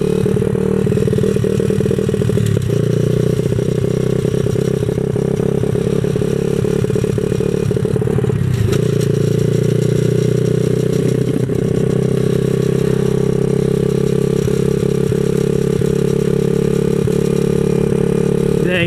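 A 127cc X7 pocket bike engine runs rough and struggles on a test ride in the Philippines, a loud, steady, rattling drone with uneven surges and clatter, recorded close, with no talking.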